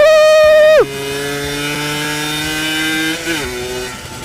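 A Honda NSR 50, a 50cc two-stroke motorcycle, revs high and loud on a test ride. Its buzzing whine drops sharply in pitch as it shifts, then holds a steady raspy drone that dips again near the end.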